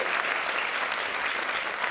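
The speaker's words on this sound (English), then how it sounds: "Round of applause for Grandad," An audience at the Opera House applauding for Grandad after a bingo win during a comedy performance, a steady wash of clapping heard alone throughout.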